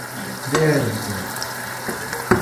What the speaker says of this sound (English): I just added 2 spoons of broth into the risotto